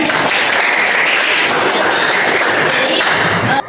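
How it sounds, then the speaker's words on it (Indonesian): A room full of people bursts into loud, dense applause during a Catholic religious education class, steady clapping that holds evenly for a few seconds before cutting off abruptly. "Oke, kita tepuk tangan."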